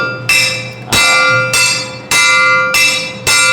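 Hand-struck maracatu percussion with a bell-like ring, five sharp strikes at an irregular pace, each decaying slowly; loud and close with no talk.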